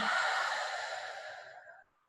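One long, breathy exhale during a guided breathing exercise, close and soft, tapering away to silence with no talking.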